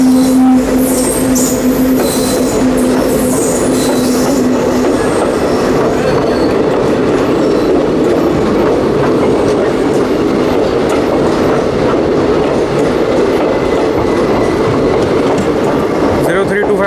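A Patna–Charlapalli special hauled by a WAG 9 electric locomotive, with ICF blue coaches, passes close by in a loud, unbroken rumble of wheel clatter and rail noise, with a faint squeal early on.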